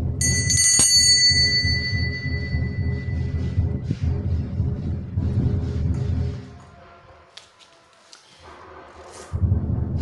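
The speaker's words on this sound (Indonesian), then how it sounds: "lonceng berbunyi." A bell rings out sharply at the start of a card reading, a bright metallic strike followed by a long shimmering decay, with quieter knocks and handling noises after it.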